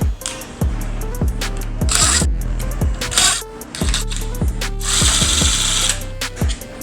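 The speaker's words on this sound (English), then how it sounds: "We're gonna remove 1, 2, 3, 4 T10 security screws." A powered driver removes T10 security screws from the top of a cabinet, whirring in short bursts with rising and falling motor pitch, separated by brief pauses and clicks, close and loud.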